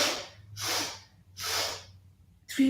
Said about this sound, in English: we're going to take 3 really big sniffs and 3 really big blows